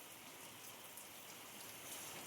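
Light rain falls in a village, a soft, even patter that spreads across the whole stretch, steady and fairly faint with no voices.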